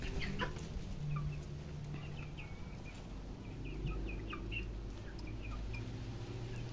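Chickens clucking steadily at close range in a backyard where a child plays among hens, short bright calls repeating over a low background rumble, with no talk.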